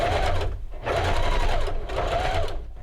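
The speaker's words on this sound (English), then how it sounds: "I'm going to go and I'm going to sew this to the sleeve the same way I've been sewing my bias tape" Sewing machine stitching bias tape onto a quilted jacket sleeve made from a thrifted blanket, running in three steady bursts with short pauses between, close and clear.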